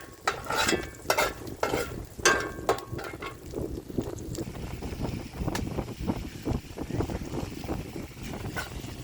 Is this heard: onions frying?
yes